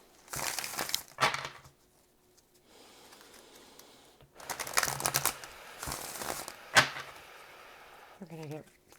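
Tarot cards are shuffled in several quick papery riffles and rustling bursts separated by short pauses, quiet and close, with a voice briefly heard at the end.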